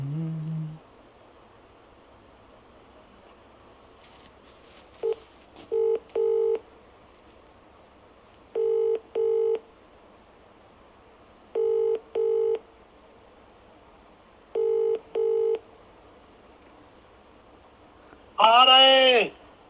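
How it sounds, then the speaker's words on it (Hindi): A telephone number is dialed as DTMF keypad tones: short paired beeps grouped in twos, spaced by regular pauses, clear and loud against a quiet background, with a brief tone at the start and a louder ringing chirp at the end. "फ़ोन मिलाता हूँ।"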